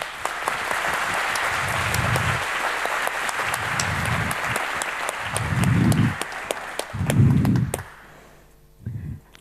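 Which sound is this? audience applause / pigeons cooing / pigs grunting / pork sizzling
audience applause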